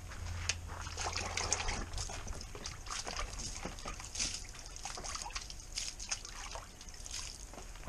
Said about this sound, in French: je prends le tuyau d'arrosage. Je vais rincer le kayak